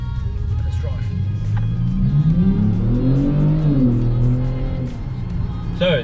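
A 2019 Kia Stinger GT accelerates hard from inside the car. The engine note climbs, drops back briefly as the gear shifts, then climbs again over a steady road rumble.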